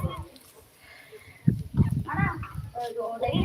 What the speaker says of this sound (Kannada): ನೋಡಿ ಎಷ್ಟೊಂದು ಕುರಿಗಳು ಬಂದಾವೆ